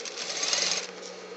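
A sewing machine stitches a jacket shoulder seam, a steady, close, high-pitched whirring run lasting just over a second with no voices.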